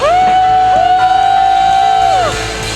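A church congregation lets out a loud, sustained collective cheer, rising into one long drawn-out whoop that holds steady before trailing off.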